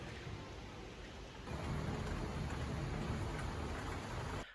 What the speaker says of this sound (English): there was this super intense thunderstorm happening and it was pitch black in here